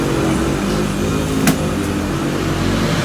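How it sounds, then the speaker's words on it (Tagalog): A motorized tricycle passes near a small neighborhood sari-sari store by an elementary school, its steady mid-range engine drone continuous throughout with a brief louder swell midway. "Mga magta-tricycle lang po."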